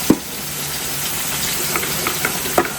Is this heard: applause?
no